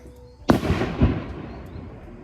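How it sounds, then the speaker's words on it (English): Fireworks go off outdoors with one sharp, loud bang followed by a second burst about half a second later, then a rumbling, crackling tail that slowly fades. "Is this a fireworks holiday?"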